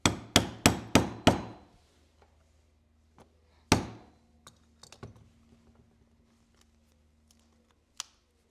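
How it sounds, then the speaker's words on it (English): Weaver 4mm stitching chisels hammered through leather: five quick, sharp strikes in a row, then a single hard blow after a pause and a few faint taps in an otherwise quiet room. "I'm using my Weaver 4mm stitching chisels on this project"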